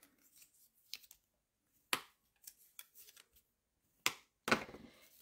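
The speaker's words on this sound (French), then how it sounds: "Je viens couper mes languettes qui sont là." Scissors snip paper strips for a handmade box in a quiet room, making several sharp separate cuts at irregular intervals, close and fairly soft, with no talking.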